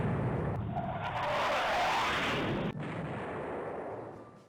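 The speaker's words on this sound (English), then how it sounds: "That was more than a few torpedo hits." Torpedoes striking warships in the naval strategy game Rule The Waves 3, a dense run of booming, rumbling explosions that overlap continuously for several seconds, with a sharp crack near the end, loud and close.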